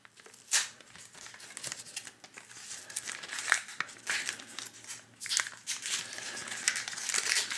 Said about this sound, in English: I'm getting that plastic sound in for you just to get you all excited